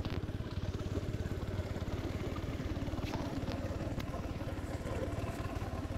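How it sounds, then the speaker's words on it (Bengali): A TVS Apache RTR 150cc motorcycle engine idles steadily nearby, a fast, even, low thrumming pulse with light mechanical clatter, constant in loudness throughout. "গাড়ির সাউন্ডটা আসলে কীরকম একটু শুনেন"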